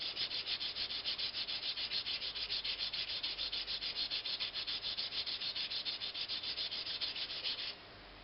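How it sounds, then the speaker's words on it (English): A pen blank is hand sanded across its length with 320 grit sandpaper while the lathe is stopped. Quick, even back-and-forth rubbing strokes sound up close and continuous, then stop abruptly just before the end. "stop the lathe and go across the blank just to take out any scratch marks left by the 320 grit"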